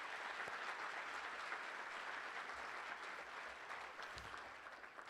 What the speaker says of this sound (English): You could give that a round of applause